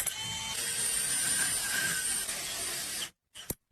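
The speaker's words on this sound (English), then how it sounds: "Using the hole saw, drill a hole in the scrap piece of wood." A power drill with a hole saw grinds steadily through scrap wood for about three seconds, then stops, followed by a couple of brief clicks.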